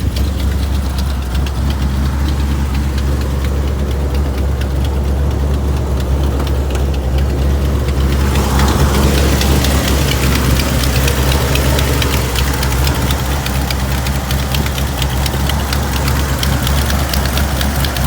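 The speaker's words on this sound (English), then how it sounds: "Like I said, it is a V8 engine." A V8 engine with side pipes on a 1984 Chevrolet El Camino SS idles close by, with a loud, steady, deep rumble and a fast lumpy pulse throughout.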